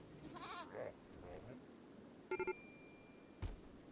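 Goats bleating in the video game RimWorld, two short wavering bleats near the start, followed later by a bright triple chime and a soft thump over a low background murmur.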